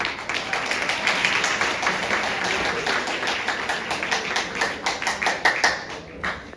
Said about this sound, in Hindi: सबसे पहले तो खुद के लिए एक जोरदार ताली होनी चाहिए।